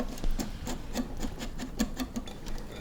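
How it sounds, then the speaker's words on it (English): A whisk scrapes rhythmically around a bowl, mixing a granola mixture with brown sugar into a caramel-like texture, a steady series of close, soft rasping strokes. "we're gonna whisk all of this together"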